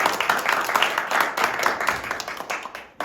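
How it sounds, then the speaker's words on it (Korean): Enthusiastic audience applause fills a school club debate competition final, a dense steady wash of many hands clapping close and loud for about three seconds. "우리 서로 격려하는 의미에 힘찬 박수 시작하도록 하겠습니다."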